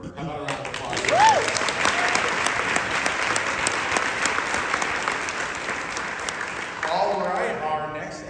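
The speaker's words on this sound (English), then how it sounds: "How about a round of applause?" A conference audience at a type 1 diabetes event gives a sustained round of applause, broad and steady from a sizeable crowd, with a voice briefly heard at the start and speech resuming as the clapping fades.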